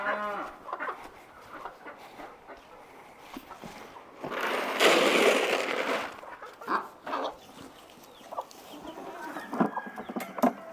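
A baby chick cheeps in a barnyard in the cold season. Hens cluck and cattle low nearby, with a louder burst of animal noise midway and scattered calls around it.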